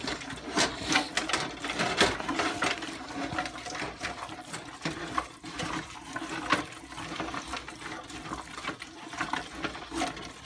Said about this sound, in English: And we're going to put all of this in there, and then we're going to stir.